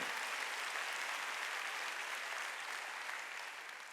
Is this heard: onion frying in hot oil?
no